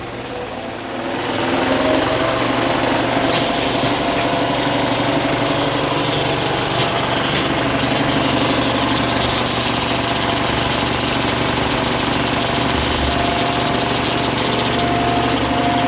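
An IMAX 70mm film projector in a Montpellier cinema whirs up and settles into a loud, continuous rattling drone with a fast, even rhythm, heard close and without voices.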